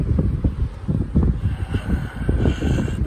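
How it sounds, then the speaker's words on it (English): Gusty wind buffeting the microphone on a pier, a continuous rough rumble that swells and dips in irregular bursts, with no voices. "It's a little bit windy today"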